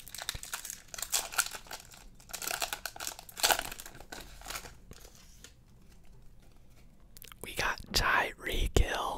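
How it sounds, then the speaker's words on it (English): Foil wrapping of a Panini Contenders football card pack crinkles and tears open up close, with sharp rustling bursts and crumpling, while a soft whisper runs underneath. "Let's rip it open."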